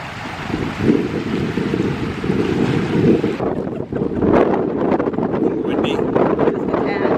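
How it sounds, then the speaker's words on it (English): Strong wind buffets the microphone at Firkin Point on Loch Lomond, a loud, steady roar with gusty rumble throughout and a rougher, fluttering burst partway through. "Windy."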